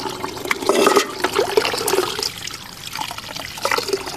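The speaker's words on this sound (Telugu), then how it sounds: "దీన్ని బకెట్ నిండా నీళ్ళు పట్టేసి ఇలా పిండి తీసేసి" Water splashes and trickles into a bucket while fruit pulp is squeezed out by hand, with a wet sloshing and dripping texture heard up close and no talking.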